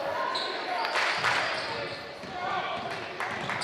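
A basketball bounces on a gym court during a girls' middle-school state tournament game, the dribbles sounding amid steady crowd noise and cheering in a busy indoor gym, with a commentator talking over it.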